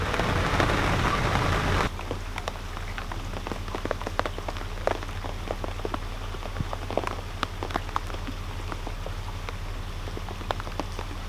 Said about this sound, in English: It started to pour it down with rain.